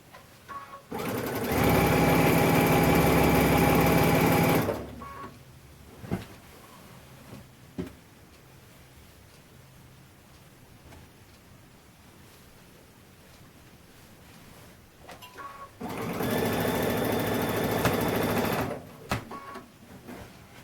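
A sewing machine stitches binding onto a big quilt in two loud, steady bursts of a few seconds each, separated by a quieter stretch with light handling noises and small clicks.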